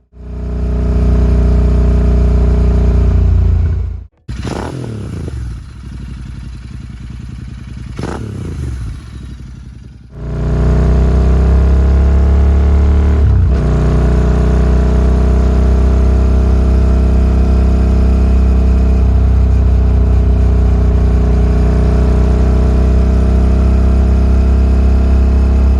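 A Royal Enfield Interceptor 650 custom scrambler with a Dustland exhaust idles loudly up close, then goes briefly quiet before several revs rise and fall, and it settles back into a heavy, steady rumble.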